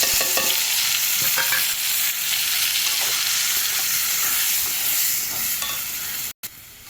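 Spice paste of onion, garlic, ginger and green chilli sautéing in a pan for fish curry, a loud continuous sizzle with repeated stirring scrapes, close up, cutting off briefly near the end.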